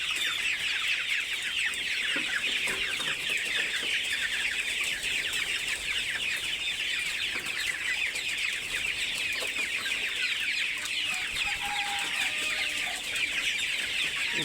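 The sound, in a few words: Sonali hybrid chickens clucking in a shed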